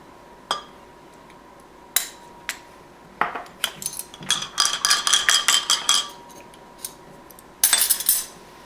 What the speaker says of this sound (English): I'll continue stirring that for a while until this cools, and to make sure all of the soap is disintegrated.